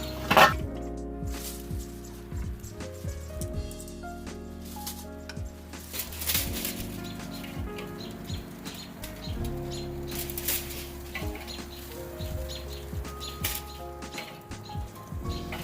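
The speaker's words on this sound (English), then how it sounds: "Some birds chirp in the background, that helps your meat taste better." Birds chirp in the background outdoors beside a cooking fire where shrimp are grilling, with scattered short calls and some wing flaps over a steady low rumble and occasional crackles.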